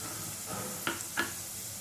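Onions and curry leaves hit a hot pan with a soft sizzle that runs steadily, broken by two quick scraping stir strokes near the middle.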